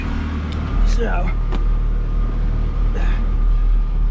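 A Ferrari engine warming up, a low steady idle rumble running throughout, with someone talking over it.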